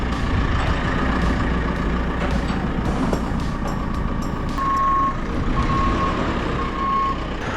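A forklift truck reverses at a truck loading area, sounding steady repeating reversing beeps over a rumbling engine at moderate distance, with faint clanks in the background.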